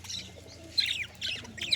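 Pigeons at the Konnagar pigeon market give faint, scattered chirps and calls in short bursts, with possible soft coos and wing flutters, against a quiet background without talk.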